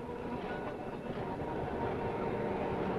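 A 1952 London tram passes on a rainy South London street, giving a steady, close rail rumble with a faint metallic clatter that holds for the full three seconds, with no voices.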